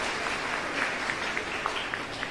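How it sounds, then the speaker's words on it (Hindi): Women in a rally audience in Rajgarh clapping together, a faint, steady patter of many hands heard from a distance with no voice over it. "अपने लिए एक बार अपने लिए आप लोग तालियां बजाइए।"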